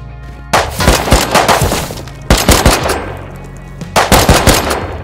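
Automatic gunfire in the video game Rust comes in three loud, rapid bursts of sharp, closely spaced shots separated by short pauses.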